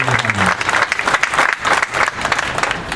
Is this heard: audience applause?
yes